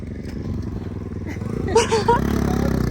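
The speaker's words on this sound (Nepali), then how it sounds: "बाइक पनि जाँदैछ यस्तो अप्ठ्यारो बाटोमा" A motorcycle carrying riders labors along a rough, difficult mountain road, its engine throbbing close and steady with a rising rattle and clatter partway through.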